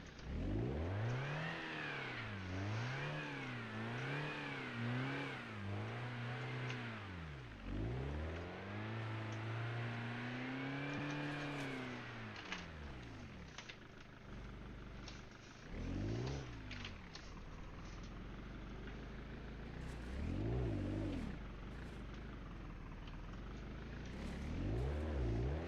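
A Lancia car engine in the BeamNG.Drive driving game revs loud and close, climbing in pitch through several gears with brief drops at each shift, then settles into rougher, varying revving toward the end.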